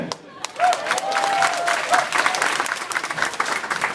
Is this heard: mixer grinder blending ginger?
no